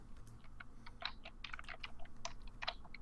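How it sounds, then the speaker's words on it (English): Rapid, irregular clicking of keys on a computer keyboard, steady typing bursts at close range with no voices. "typing right now, I can hear it"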